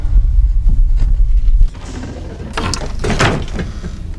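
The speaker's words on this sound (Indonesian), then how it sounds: "Setelah berusaha keras, Markus akhirnya berhasil membuka pintu." A door inside a building is forced open: a heavy low rumble gives way to scraping and a few sharp metallic clanks and knocks, close and fairly loud.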